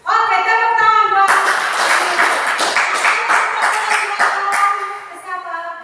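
A classroom of students claps hands after a pupil answers, a burst of loose, uneven clapping that starts after a sustained tone and fades near the end, fairly close and loud.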